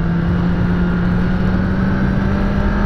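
A 2016 Kawasaki ZX10R motorcycle engine roars loud and close in a sustained, steady high-revving drone, heard alone with no talk.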